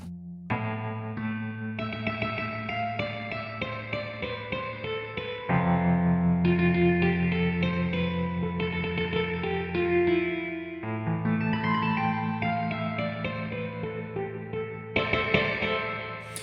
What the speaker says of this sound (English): Let's just ram that reverb up.